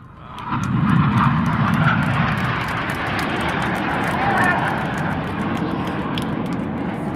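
Red Arrows display jets at the Southport airshow roar overhead in a loud sustained rush, while a commentator talks over the engines.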